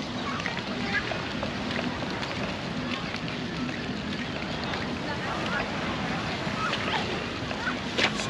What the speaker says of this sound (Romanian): cea mai frumoasă plajă de aici din Antalya, plajă la Marea Mediterană, plajă publică